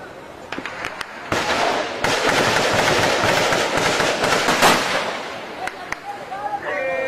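Dense, continuous gunfire during combat between the army and guerrillas in Colombia, loud and close, with rapid overlapping cracks and bursts sustained for several seconds before thinning into scattered shots.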